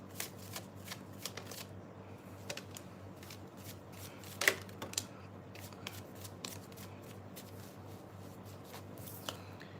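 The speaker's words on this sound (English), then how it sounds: "I'm gonna get the other cards." Tarot cards are shuffled by hand in a quiet room, a soft run of light riffling and slapping sounds with a few sharper snaps, close and faint, with no talking.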